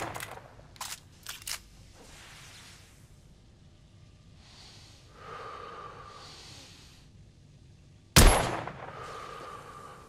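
A newly acquired firearm in the video game The Order: 1886 fires one sharp, loud shot near the end, preceded by soft breathy rustles and quiet clicks in an otherwise hushed scene.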